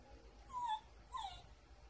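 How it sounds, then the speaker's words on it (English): A dog at a campsite whimpers twice in thin, high, falling whines, quiet and close, with a short gap between them over a faint background hum. "It's my cousin's dog."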